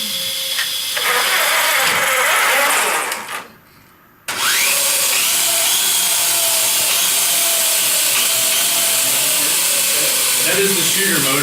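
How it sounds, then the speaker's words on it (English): Electric shooter motors on a FIRST Robotics competition robot run with a loud, steady mechanical whir, briefly cutting out for a moment before resuming at full strength. "That is the shooter motors."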